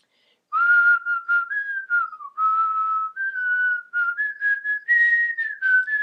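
A woman whistles a tune alone, a clear, close, loud melody of held and sliding notes with short breaths between phrases.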